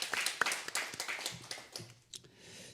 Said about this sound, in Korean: 우리 부활하신 주님께 한번 박수로 영화 드리겠습니다